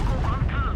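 A tank cannon booms in World of Tanks Blitz, a dense, rumbling blast with a sustained roar, loud and close.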